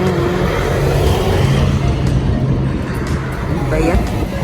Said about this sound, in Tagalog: ang ingay ng mga sasakyan